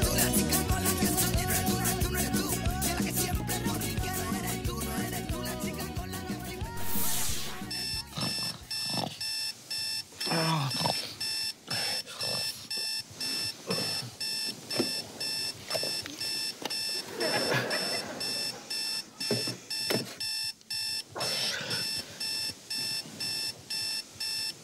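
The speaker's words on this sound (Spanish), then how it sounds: "¿Quieres callar ya ese maldito despertador?" A bedside alarm clock rings in a bedroom, a loud, relentless electronic beeping in a steady rapid pulse that cuts in after music and keeps going, with brief sounds of movement underneath.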